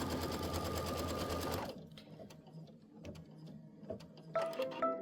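An embroidery machine stitching a tack-down line on a Kimberbell patchwork flag block: a close, rapid, steady mechanical stitching rattle for under two seconds, then it stops, leaving faint handling clicks.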